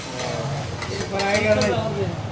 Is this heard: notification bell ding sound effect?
no